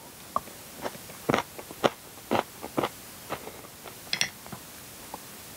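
Crunchy Burmese tea leaf salad with peanuts, peas and chili being eaten from a spoon close up, giving a series of separate crisp bites and chewing crunches at an irregular rhythm, with no talking.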